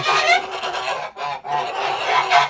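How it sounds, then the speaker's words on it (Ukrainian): Several domestic geese, Kholmogory and white breeds, honk and gabble close by in overlapping harsh calls, a noisy flock chorus. "Тут наші гуси"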